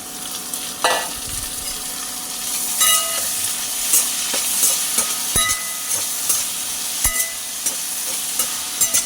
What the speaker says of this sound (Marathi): गवारी चांगली भाजून घेऊया गवारी भाजत आली